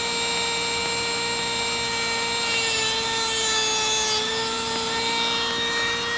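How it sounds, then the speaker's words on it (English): A Dremel rotary tool whines steadily at high speed, cutting into material on a model railroad layout, a continuous close, loud tone with a slight pitch wobble throughout. "And we fire up the Dremel tool."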